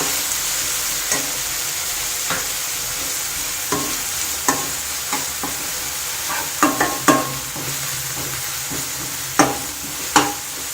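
A utensil scrapes and clacks in a pan at irregular intervals over a steady sizzle of frying onions, close up, with no talking.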